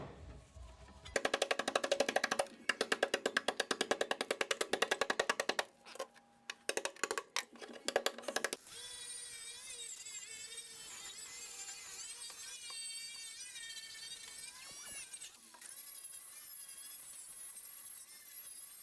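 A cup wheel on an angle grinder grinds the metal of a car body into nooks and crannies, loud harsh rasping bursts that stop and start, followed by a long high steady whine as the tool spins down and runs on.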